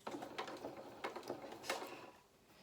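A domestic sewing machine stitches fabric for a hedgehog doll's head, giving a soft, steady mechanical whirr with faint rhythmic clicks, close by and quiet, no talking.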